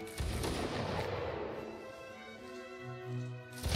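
Musket volley fire from the video game M&B Napoleonic Wars: a loud, crackling burst of massed shots at the start that fades into a long rumbling decay, with a steady tonal drone underneath and another swell near the end.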